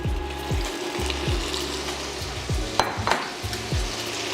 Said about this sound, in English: Now I add my andouille sausage.